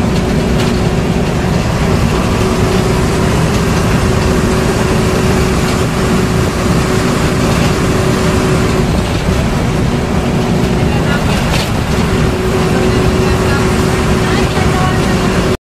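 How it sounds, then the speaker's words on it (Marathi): An MSRTC state transport bus pulls into the busy Nira bus stand in Maharashtra. A loud, steady engine rumble runs throughout and fills the scene, with bus-stand bustle mixed in. "कुठली गाडी आली, लोणंद गाडी आली."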